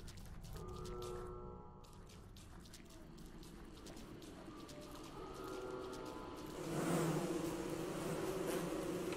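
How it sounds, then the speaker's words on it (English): Killer bees in the survival game Don't Starve buzz persistently around the player, a droning insect hum that grows louder toward the end amid game sound effects. "Stupid, stupid killer bees."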